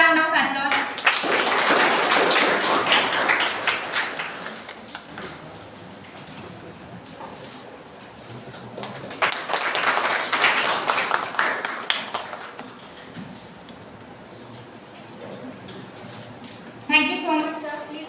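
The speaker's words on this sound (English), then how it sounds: "Please have a round of applause." Two bursts of audience clapping at an academic faculty development programme session, each swelling and fading over several seconds, separated by quieter stretches with a few voices in the background.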